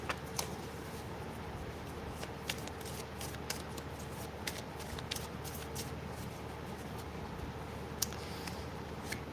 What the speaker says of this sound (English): I just saw that while shuffling